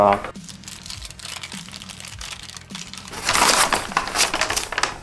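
A plastic bag crinkles close by while an Asus SmartO MD200 mouse is unboxed, with sharp rustles and crackles and a louder burst of crumpling near the end. A person talks over it.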